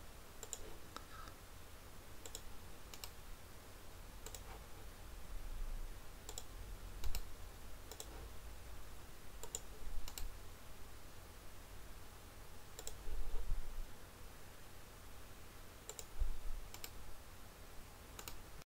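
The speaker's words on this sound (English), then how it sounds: "We repeat the command by right-clicking." Quiet computer mouse clicks while working in Aedes.PCM structural software, scattered single and double clicks over a faint room hiss.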